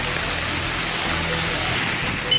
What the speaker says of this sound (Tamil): பெஞ்சல் புயலின் தாக்கத்தால் கரூர் மாவட்டத்திலும் பலத்த மழை பொழிந்தது.